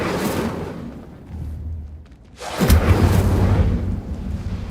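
A fiery Incendio spell blast erupts in Hogwarts Legacy, a broad whooshing burst that swells after a brief lull and rumbles loudly for a couple of seconds, with an earlier softer magical rush before it.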